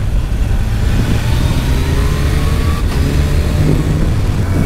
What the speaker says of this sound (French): la moto elle est en full, j'ai déconnecté toutes les assistances à part le shifter